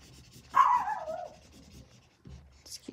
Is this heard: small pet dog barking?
yes